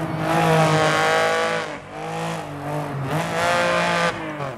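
A Lancia Stratos rally car in the racing game DiRT 4, its engine revving hard and loud with gear changes and brief dips in pitch, alongside tire noise, no talking.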